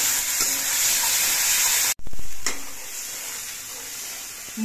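Spice masala for a jackfruit seed curry hisses and sizzles loudly in the pan, with stirring scrapes. A sudden break is followed by a softer, steadier fry.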